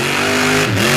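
A 540-cubic-inch pulling truck engine cackles loudly through zoomie headers at a 2024 Indy finale pulling event, holding a steady, rough idle-rev note before briefly dipping in pitch as the truck rolls out.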